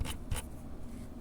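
The scroll wheel of a G Wolves Skoll Grey gaming mouse gives two quick, quiet bursts of fine ticking, each a short ratchet of notches, close up with hiss in the gaps.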